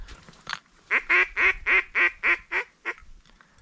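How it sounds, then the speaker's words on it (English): A drake mallard gives a quick series of about eight evenly spaced raspy quacks at a duck hunt from a kayak, fairly close and clear, with no talking over them. "Yeah, Drake Mallard."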